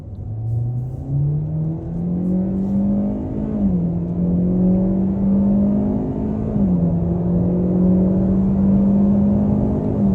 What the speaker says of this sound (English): taking a step out here, we can open her up on the gas